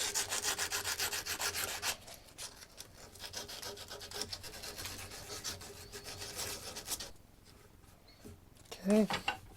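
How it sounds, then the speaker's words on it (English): A handmade ring being sanded with 220 grit sandpaper, heard as rapid rhythmic rubbing strokes up close, loud then softer, ending in a short pause and a brief voice. "A little bit of higher grit sandpaper. Some 220."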